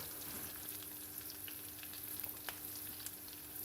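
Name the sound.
guanciale frying in fat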